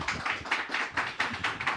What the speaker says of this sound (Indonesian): Kita berikan tepuk tangan buat Pak Koko Haryono.